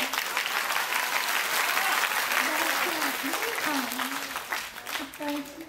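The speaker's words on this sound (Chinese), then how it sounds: "谢谢大家热情的掌声。" Warm audience applause at a stage dance performance by young deaf performers, dense steady clapping throughout with a voice speaking over it.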